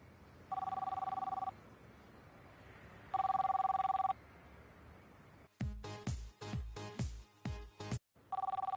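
A mobile phone ringing in a quiet room: three separate electronic ring bursts spaced a few seconds apart, broken up by a stretch of sharp clattering knocks before the last ring starts.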